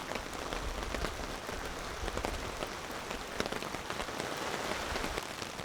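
Steady rain falls in the Quetico wilderness, a dense patter of drops striking surfaces, continuous and fairly loud with no voices.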